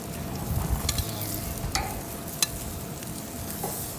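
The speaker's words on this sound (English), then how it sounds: "So I'm gonna start off by just putting the veggies on the grill." Vegetables laid on a very hot grill give a dense, close sizzle, broken by a few sharp clicks and taps of tools or metal; no one speaks.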